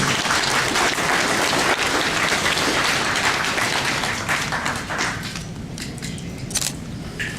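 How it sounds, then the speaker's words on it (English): An audience at the 2010 Red Lake Drug & Gang Summit welcomes the Red Lake Nation chairman with loud, dense applause that tapers slightly toward the end. "Give him a warm round of applause here."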